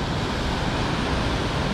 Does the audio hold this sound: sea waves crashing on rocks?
yes